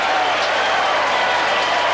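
At an Australian rules football match in 1984, a stadium crowd roars and applauds after a Glenelg goal, with a steady, dense wash of clapping and cheering throughout, loud and unbroken.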